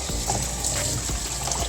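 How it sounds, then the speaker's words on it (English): Water runs into a container being filled for washing callaloo, a steady close splashing trickle with a faint hiss throughout and no voices. "So I'm going to fill up the container with some water."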